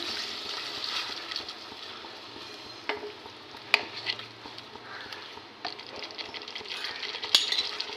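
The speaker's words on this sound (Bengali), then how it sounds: "মগজ দানা বাটা আর কাজু বাটা কাজু বাটা দিয়ে ভালো করে কষিয়ে নিচ্ছি" Poppy seed and cashew paste are stir-fried in a pan for a Bengali rui fish kalia, a low steady sizzle under scraping stirs and sharp clinks of a metal spoon against the pan.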